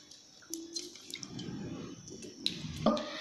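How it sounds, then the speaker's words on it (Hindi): Cut potatoes being rinsed in a bowl of fresh water for homemade crispy french fries, giving soft splashes, drips and squishy handling sounds close by, with a brighter splash near the end. "निकाल के फ्रेश पानी में फिर से इसको धोऊंगी बढ़िया से"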